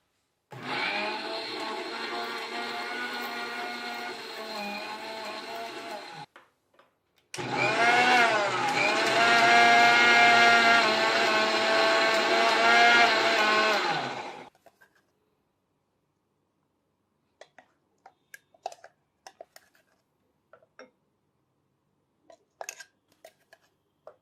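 A kitchen mixer grinder whirs through mango leaf paste in two loud, continuous bursts, about six and seven seconds long with a brief pause between, followed by near silence and scattered small clicks and taps.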